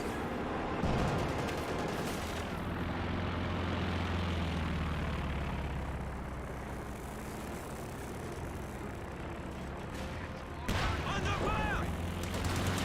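Gunfire and artillery rumble in Company of Heroes 2 run steadily throughout, with a droning aircraft-like layer and a sharp burst near the end, under faint talk.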